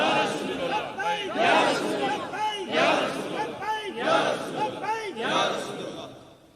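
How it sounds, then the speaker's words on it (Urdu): A large crowd chants religious Labbaik slogans in rhythmic bursts at a sermon on Tallagang Road in Naseerabad, Pindi Gheb. Loud, massed voices rise and fall in about five repeated waves before fading at the end. "بن دیکھے تسی لبیک دے نعرے لا رہے ہو"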